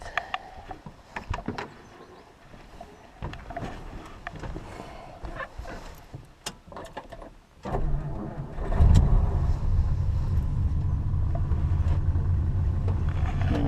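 A Mercury outboard engine starts after some clanking and handling noises, then settles into a steady, loud, low rumbling slow idle that continues without talk.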